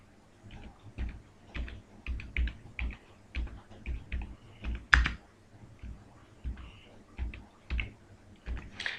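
Someone types a form title on a computer keyboard, a steady run of quick, close key clicks in short bursts with one louder tap partway through, no speech.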